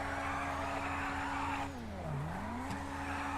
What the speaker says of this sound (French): maintenant on va la tester en ligne droite, la voiture, ce qu'elle a dans le ventre.